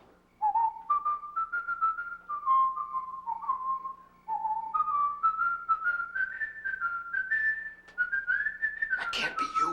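A person whistles a slow melodic tune of rising and falling phrases, clear and close, with short pauses between phrases and a brief breathy burst near the end, no speech over it.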